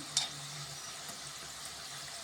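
Food frying in a tray of oil while preparing for a Gour Nitai temple founding-day celebration, a steady faint sizzle with a soft crackle near the start, no talking.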